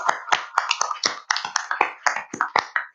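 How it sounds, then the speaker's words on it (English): A conference audience gives a short burst of applause for a panel session on transnational crime: a handful of distinct, sharp claps, fairly close and irregular, rather than a full crowd ovation. "I can demand an applause for me for sticking to the timelines and for the panelists here"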